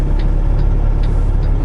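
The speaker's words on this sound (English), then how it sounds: "but then I got a car coming." A car drives along a road near a vehicle with a turning driver ahead, its steady low engine and tire rumble loud and continuous throughout.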